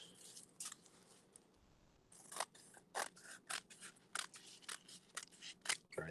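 Scissors snip through folded tissue paper in a quiet room, a string of short, crisp cuts in quick bursts with brief pauses between, close and fairly soft.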